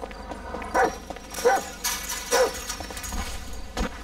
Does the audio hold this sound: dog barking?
yes